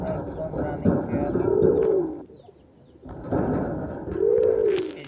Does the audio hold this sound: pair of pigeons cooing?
yes